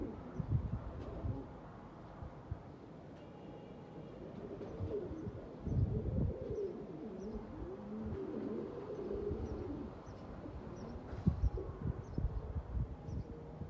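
Pigeons coo softly in a loft, with repeated low throaty coos and faint chirps over quiet background noise.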